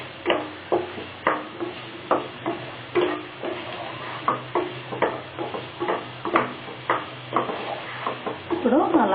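Potatoes with ginger-garlic paste and turmeric frying over a high flame as a spoon stirs them in the pan, a regular series of scraping strokes with soft sizzling underneath, close and alone.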